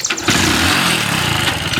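A motorcycle engine cranks and catches, then runs with a loud, rough, close putter for the rest of the brief moment.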